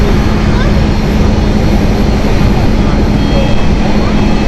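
A KLM jet pushes back at Amsterdam Schiphol with a loud, steady engine hum and whine, a constant low drone holding evenly for a few seconds amid airport background noise.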